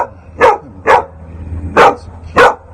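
A rescued dog, saved from North Carolina floodwaters, barks four times in spaced, loud, close bursts over a low rumbling background, with no talk.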